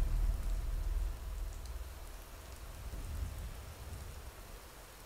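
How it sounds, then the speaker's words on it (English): In the video game They Are Billions, steady rain falls throughout, a dense wash of droplets with a deep rumbling low end, strongest at the start and easing slightly. "apparently it's raining tonight"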